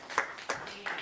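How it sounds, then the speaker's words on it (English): A church congregation at a Sunday afternoon service gives three separate, sharp bursts of hand clapping, evenly spaced and fairly quiet, with a faint tone in the background. "Let's give the Lord a good hand clap of praise"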